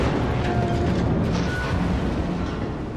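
A torpedo hit in a World of Warships naval battle: a sustained roaring explosive rumble, loud and dense, fading slightly at the end, with no talking.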